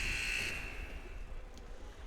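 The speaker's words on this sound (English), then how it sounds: "Too late. Buzzer goes." A loud, sharp electronic game-ending buzzer blares for about half a second at a basketball game, then cuts off, leaving a noisy arena-like background.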